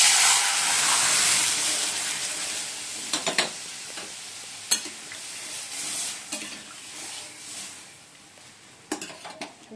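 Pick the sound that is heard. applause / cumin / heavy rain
cumin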